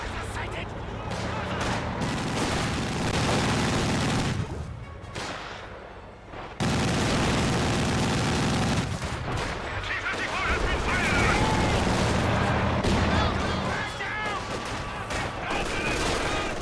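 An MG40 machine gun chatters in Company of Heroes 2, suppressing infantry amid a dense, continuous din of battle with other gunfire and artillery rumbling underneath, and a voice talking over the combat.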